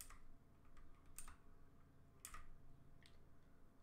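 A mechanical keyboard with clicky switches, struck in sparse, separate keystrokes that land close and soft against faint room hiss.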